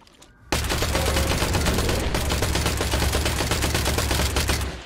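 Gunfire in the game Industria bursts in abruptly after a quiet half second, a loud, continuous rapid stream of shots that runs nearly to the end before easing off slightly, with no voices.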